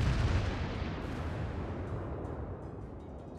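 A deep, heavy boom and long rumbling roll-off from battleship guns in the naval combat game World of Warships, loud and fading slowly without voices.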